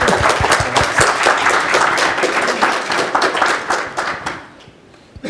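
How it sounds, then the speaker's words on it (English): Audience applause closing a panel session at a Budapest energy and security conference, a dense burst of many hands clapping close by that holds steady, then thins and fades near the end. "Let's give a round of applause."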